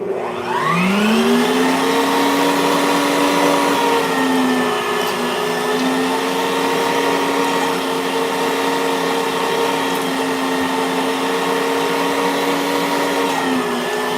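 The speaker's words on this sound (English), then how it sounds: "One for the sausage grind, which is a slower grind and allows you time to manipulate the casings. This is the meat setting." An electric meat grinder runs on its meat setting, grinding meat with a loud, steady motor whine that ramps up at the start and winds down near the end, close and uninterrupted by speech.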